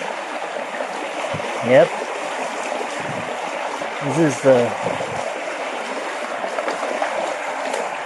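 Thin water trickles steadily down a small waterfall on a hike, a soft, constant wash running through, while someone speaks briefly over it.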